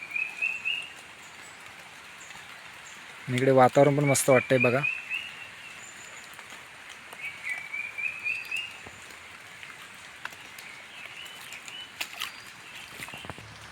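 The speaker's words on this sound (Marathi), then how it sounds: "इकडे पक्षी बघा वेगवेगळ्या सुरात कसे बोलत आहेत" Wild birds sing in varied calls in a Konkan forest, thin chirps and whistles running faintly through the background while someone talks over them.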